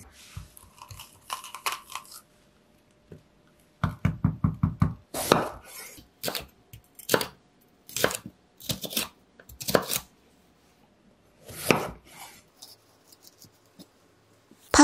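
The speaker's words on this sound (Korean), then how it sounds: "파프리카는 양배추와 같은 크기로 잘라줄게요." A knife slices bell pepper on a cutting board, giving a series of crisp, close chopping strokes in bursts with short pauses between them.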